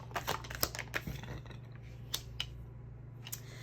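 Tarot cards being shuffled by hand, a run of crisp papery riffles and taps up close, loud early and thinning to a few sparse flicks, with no talking.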